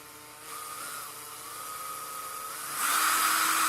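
A power drill whines steadily while boring a hole through a Borg costume part, its pitch rising as the drill speeds up near the end, close and alone without talk.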